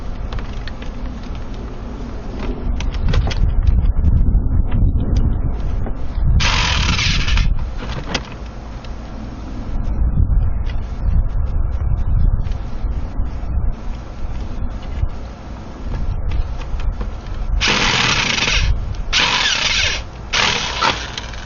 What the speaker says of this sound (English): It won't let me get the drill in all the way right now.